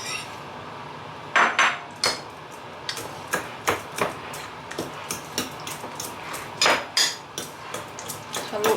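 Sardines and their broth being stirred into a noodle omelette mixture, a utensil clinking and scraping against a bowl in irregular close taps and scrapes with no voices.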